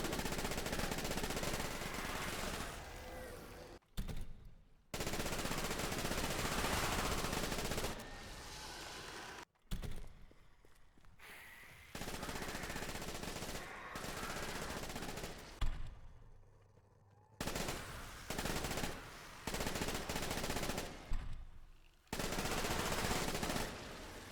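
An assault rifle fires in the video game Dead Frontier 2 in loud sustained automatic bursts, separated by brief pauses and short quiet gaps.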